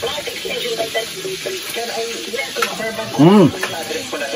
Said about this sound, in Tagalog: Pinatog sibuyas Bombay.